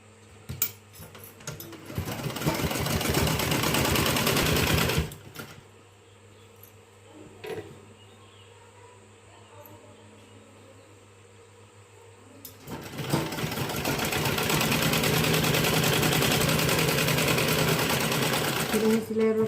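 A sewing machine stitches a blouse in two loud, steady whirring bursts separated by a quieter pause, with a person speaking during the break between runs.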